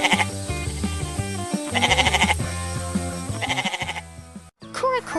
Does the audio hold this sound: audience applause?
no